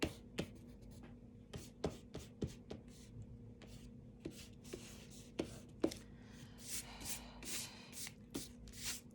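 Close, quiet scratching of a drawing tool on paper as a line is thickened on a stylized zebra outline in a grade 3 art lesson, with repeated short strokes and taps in an uneven rhythm.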